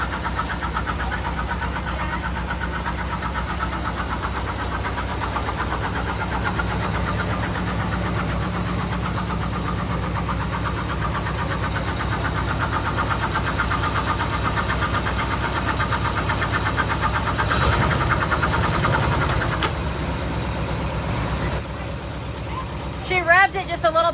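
A 1948 Cadillac engine, started after sitting for years, idles with a steady, slightly uneven rumble, briefly swelling louder as it is revved before settling again.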